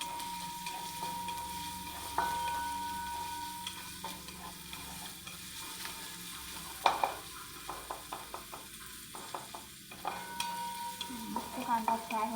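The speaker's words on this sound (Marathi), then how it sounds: "मस्त कांदा फ्राय होते आपला." Onion and pre-fried potatoes sizzle in a pan for a spinach-potato dish, a soft steady hiss broken by repeated scraping and tapping spatula strokes, with the clicks growing quicker toward the end.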